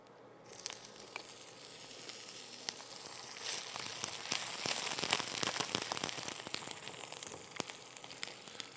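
Chicken livers frying in a hot pan, a dense steady sizzle with crackling pops and spatters that grows slightly louder, close and continuous with no talking.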